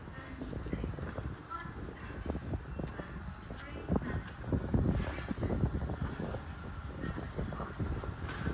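Train noise at Petersfield railway station, a steady rumble and clatter of rail cars lasting throughout, swelling somewhat louder midway, with faint voices mixed in.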